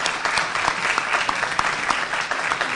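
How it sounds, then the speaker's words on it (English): An audience at a fireside chat session gives a round of applause, dense steady clapping close and loud for the whole stretch, with no talk over it. "we should give a big round of applause to all the speakers that we had"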